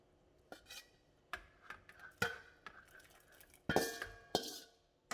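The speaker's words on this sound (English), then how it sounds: "So I'm going to add the meat back into the pot." Meat being added back into a pot of red pozole, scattered clinks and clatters of a utensil against the pot, with sharp irregular knocks growing louder toward the end.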